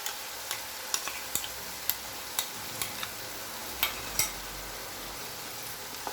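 A spoon stirs yogurt into a keema mixture in a pan for biryani, giving repeated sharp taps and scrapes at a steady pace over a faint sizzle.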